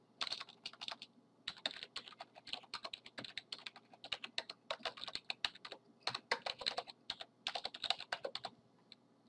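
Someone types on a computer keyboard, entering a password in a quick irregular run of light key clicks with short pauses between bursts, close and fairly quiet.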